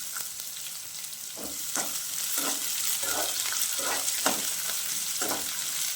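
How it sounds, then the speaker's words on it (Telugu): Onions and green chillies fry in hot oil for puffed rice upma, a steady bright sizzle with repeated soft stirring scrapes at a regular pace, close and alone with no voices. "పచ్చిమిర్చి ఉల్లిపాయలు మంచిగా వేగే వరకు వేయించుకోవాలి"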